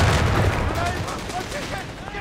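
Enemy machine gun fire in Company of Heroes 3 chatters in a steady dense stream, loud and close, mixed with distant booms and battle noise.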